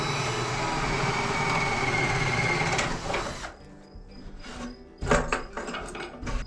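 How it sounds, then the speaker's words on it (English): A power drill bores a hole in wood during an RV camper modification, running in a steady loud whine for about three seconds before dropping away into short bursts and clatter. "So I'm going to drill that hole now."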